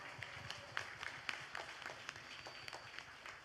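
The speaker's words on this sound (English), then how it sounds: "Let us all give him a big round of applause" Faint applause from a gathered audience welcoming a guest at a school event, scattered sharp claps spread over a soft continuous patter, distant and quiet.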